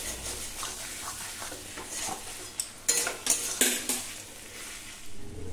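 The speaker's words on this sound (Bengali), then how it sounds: "তার আগে আরেকটু ভালো করে মিশিয়ে নেব।" Chicken and fried spice masala stirred in a pan, a soft sizzle under several clattering strokes of a utensil against the pan that grow louder toward the middle, close and with no speech.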